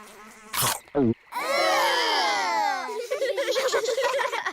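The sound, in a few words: flies buzzing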